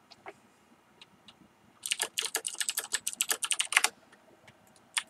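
Rapid burst of clicky keystrokes on a computer keyboard during a game session, close and fairly loud, a quick flurry after a few sparse taps, with no talk.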